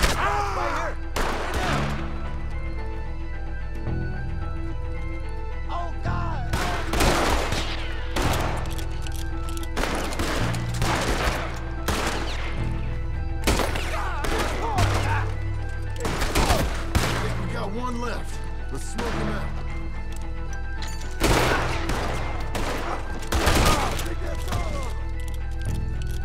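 Gunfire crackles through a shootout in the video game Red Dead Redemption 2, with sharp clustered shots and volleys arriving in bursts over a steady background rumble.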